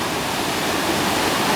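The Bopath Ella waterfall roars in a steady, dense, broadband rush of falling water, loud and close, with no voices over it.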